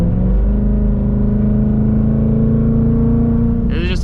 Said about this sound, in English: And now we're in track exhaust mode